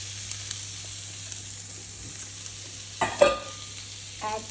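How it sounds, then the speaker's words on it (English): Onions and peppers sizzling in a frying pan, a steady soft hiss with a few brief louder clatters and stirring scrapes near the end. "Just add some onions into the pan. Add the peppers into the pan."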